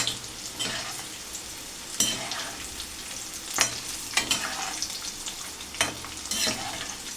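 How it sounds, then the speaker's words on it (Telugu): Curry leaves and other ingredients fry in hot oil for kaaram boondhi, giving a steady close crackle and sizzle with repeated bursts of stirring scrapes and a soft low hum beneath. "చూడండి ఇవన్నీ చక్కగా వేగుతున్నాయి."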